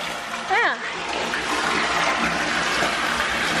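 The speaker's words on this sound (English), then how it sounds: "I can hear running water. It's a bloody waterfall, Kent." Waterfall on a muddy, steep hiking trail produces a steady, broad rushing of running water throughout, with a brief voice heard over it near the start.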